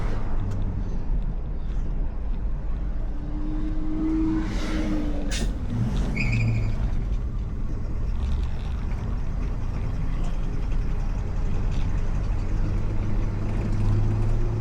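1966 Plymouth Barracuda on a test drive, its engine droning steadily from inside the car with pitch changes as it shifts gears, alongside road noise and a brief high whine midway.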